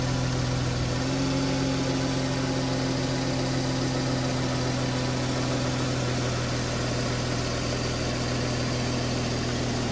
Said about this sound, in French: le moteur au ralenti